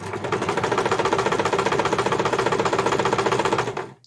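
A sewing machine stitches a piped cushion cover in one fast, even run of rapid needle strokes, loud and close, before slowing to a stop.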